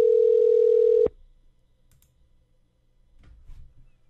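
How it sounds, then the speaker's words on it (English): A steady telephone dial tone sounds loudly for about a second, then cuts off, leaving near-silence with a few faint clicks and soft handling noises. "Yes, I'm returning a phone call here."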